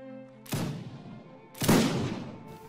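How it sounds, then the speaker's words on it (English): Two musket volleys from a reenactors' firing line shooting at will crack out about a second apart, each a loud sharp blast followed by a long rumbling decay, with no talk over them. "Continued fire at will."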